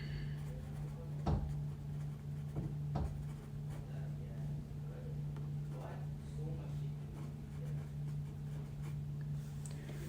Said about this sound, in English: let's write that here